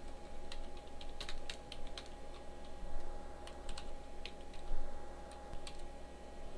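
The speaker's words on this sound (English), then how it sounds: "And now I can type the path and the file name." Typing on a computer keyboard produces quiet, close key clicks in irregular short bursts over a steady low hum.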